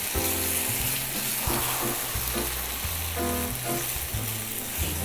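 Pork liver and leek are stir-fried in a pan, with a loud continuous sizzle and the scrape and toss of stirring up close. No one speaks.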